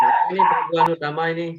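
A dog barks and yips over an online call microphone during a group video meeting, several close, sharp barks mixed with someone talking nearby.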